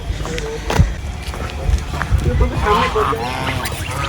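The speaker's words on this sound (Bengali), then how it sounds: "প্রচুর হাঁস এখানে দেখা যাচ্ছে রাজহাঁস হাঁসের বাচ্চা" Geese and ducks, with ducklings, honk and call around a pond in a mosque compound in Barishal, in short, uneven bursts close by, along with outdoor rustling and movement.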